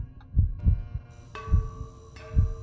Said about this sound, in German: dieser Herzschlag ist einfach überall gleich.